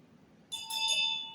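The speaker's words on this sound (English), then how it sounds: "Now, the Bible bells are worn by the high priest, as I've just shown you, around the hem of the robe." Small bells on the hem of a high priest's robe give a brief, close jingle of bright metallic rings that swell and hang briefly, alone in a quiet room.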